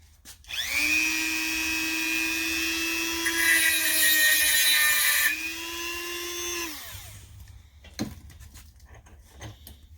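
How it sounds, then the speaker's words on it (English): A Dremel rotary tool cuts a notch into a small steel flathead screwdriver. Its high, steady whine rises, holds with a grinding edge, then spins down, followed by a few light knocks. "Got your Dremel. Regular little flathead steel screwdriver."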